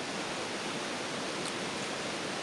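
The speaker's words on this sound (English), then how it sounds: "heading down the creek, which I'm sure you can hear in the background there" Steady broadband rush of a creek flowing beside a campsite, a continuous even wash of water with no talk over it.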